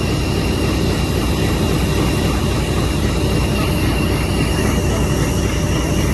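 Diesel locomotive pulling away from Malakwal Junction, a steady loud rumbling engine drone with broad noise throughout, no voices.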